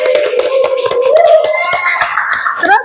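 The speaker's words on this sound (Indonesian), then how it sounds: "tepuk tangan semuanya" Quick, steady clapping from a group of hands, close and lively, with a tonal sound running underneath throughout.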